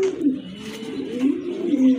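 A pair of jet black exhibition pigeons coo close by, repeated low throaty rolling calls with short breaks between them.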